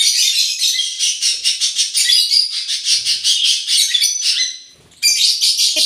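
A young pet yellow lovebird chirps rapidly and continuously up close, bright shrill calls in quick bursts with a brief pause before resuming.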